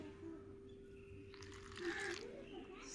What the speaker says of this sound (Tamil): தண்ணி சேர்த்துக்குருவோங்க